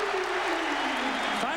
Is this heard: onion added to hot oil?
no